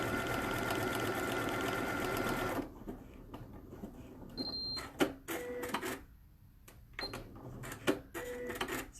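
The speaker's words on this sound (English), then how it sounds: "it's going to zigzag back first this time and do the bar tack" A sewing machine zigzag-stitching a buttonhole bar tack runs in a steady mechanical whir for the first few seconds, then breaks into short bursts of stitching and clicks separated by near-silent pauses.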